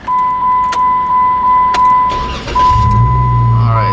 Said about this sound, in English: I'm going to start up the vehicle